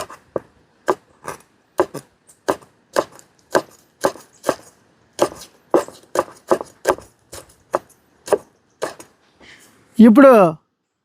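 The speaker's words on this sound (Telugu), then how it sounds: "ఫస్ట్ అయితే ఉల్లిపాయలు కొద్దామండి ఇప్పుడు" Onions are chopped with a knife on a board in a series of crisp, evenly spaced close thuds, about twenty strokes, ending with a short louder clatter.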